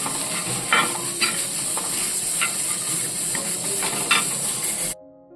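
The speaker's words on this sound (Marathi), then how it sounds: "इथे मी ह्याच्यामध्ये कोथिंबीर लसूण आणि अद्रक इथे भाजायला टाकलं आहे" Coriander, garlic and ginger roast in a pan for a Satara-style mutton masala, a steady close sizzle broken by several sharp stirring scrapes, cutting off abruptly at the end.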